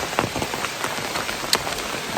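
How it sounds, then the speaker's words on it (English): Steady rain falls at Princess Falls in Daniel Boone National Forest, a dense close patter of drops on wet surfaces with scattered sharper splashes, no voices. "it's still actively raining as well"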